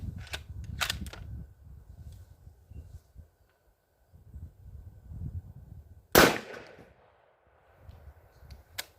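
A 6.5 Grendel rifle firing a 120-grain Nosler E-tip into a block of candle wax gives one sharp, loud crack that trails off outdoors, with a couple of fainter snaps earlier amid low background rumble.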